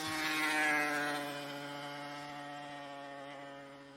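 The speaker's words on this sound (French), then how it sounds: "Bon, il y a un garçon avec une grosse moto." A big motorcycle passes on a small country road, its engine a loud buzzing drone that peaks early and then slowly fades as it rides away.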